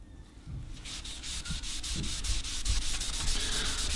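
A cloth rubs russet brown-yellow leather dye onto the back of a wooden guitar body, making a rhythmic, scratchy swishing with regular strokes that grow slightly louder. No voices are heard.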